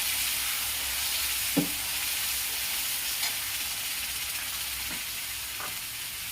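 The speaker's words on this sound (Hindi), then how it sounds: "इसमें मैं इस पेस्ट को डाल दूंगी और इसे अच्छी तरह मिला दूंगी।" Steady sizzling hiss from a hot pan as a paste for Afghani egg curry is stirred in, with a few soft stirring scrapes and taps scattered through; no talking.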